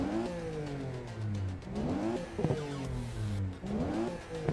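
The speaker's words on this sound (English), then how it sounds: "this actually sounds less like the Supra than Forza" A Toyota Supra engine in the racing game AC Evo revs up and down through repeated gear changes, rising sweeps cut by shifts, close and fairly loud with no talk.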